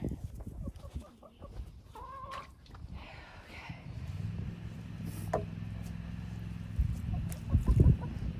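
Chickens cluck and murmur nearby in short bursts as they are fed rabbit gallbladders, with a low steady hum underneath and some scuffling toward the end.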